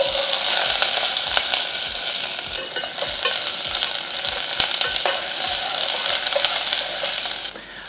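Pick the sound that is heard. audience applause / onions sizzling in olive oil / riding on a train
onions sizzling in olive oil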